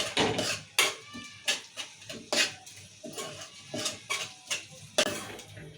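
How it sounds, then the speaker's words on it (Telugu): Eggplant biryani being mixed with chopped coriander and fried onions in a pot, producing a steady series of scraping, clinking stirs of a metal spoon against the vessel, close and fairly loud with no talking. "ఇక వేయించిన ఉల్లిగడ్డ వేసి మంచిగా ఇట్లా కలుపుకుందాం"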